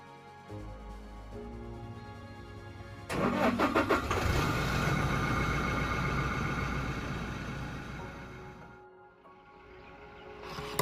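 A car cranks and fires up, then its engine runs and pulls away on a camping trip in Kruger National Park, a rough mid-pitched drone that swells and fades before a faint final knock.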